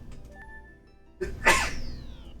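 A single sharp sneeze bursts out close by after a brief quiet moment, followed by a short fading breath.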